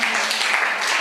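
Congregation clapping hands in a dense, steady patter during a song at a church anniversary prayer service, with no clear voices over it.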